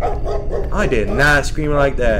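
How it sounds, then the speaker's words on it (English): A dog barks and yips inside a video game, short sharp calls heard close and mixed with someone talking loudly over them. "That was a dog."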